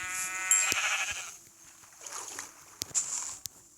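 A sheep in the game Minecraft bleats clearly at the start, followed by quieter rustling and a few sharp clicks; no voices.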